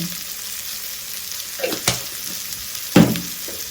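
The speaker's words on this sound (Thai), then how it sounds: "ให้มันผัดกับเนยให้หอมๆค่ะทุกคน" Mushrooms and oregano frying in butter in a pan, a steady soft sizzle with a couple of louder bursts of stirring or spattering, close and alone without talk.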